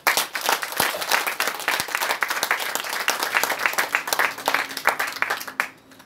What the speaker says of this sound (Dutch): En ik vraag een daverend applaus voor u allen.